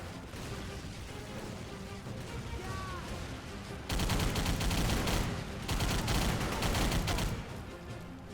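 Automatic gunfire rattles in a shooting video game, sustained bursts that grow louder and denser midway as more rounds are fired at enemies, with only brief gaps between the volleys.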